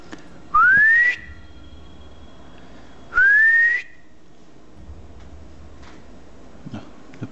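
A person in an abandoned house whistles twice as a sound signal, each a short rising whistle under a second long, with a pause between them against a quiet background.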